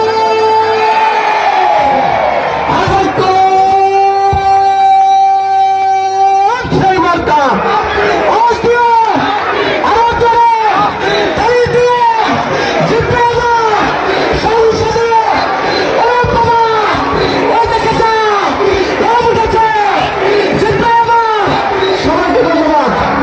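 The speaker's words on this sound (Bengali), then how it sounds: "মিছিল শুরু হবে।" A large crowd at a political election procession in Kaliganj for an independent candidate in the Jhenaidah-4 seat chants and roars in loud rhythmic bursts, led by a voice at first, then call-and-response shouting that repeats steadily.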